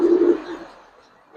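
A Giribaz pigeon coos close by in the loft, one low throaty call that fades out, then a second coo begins.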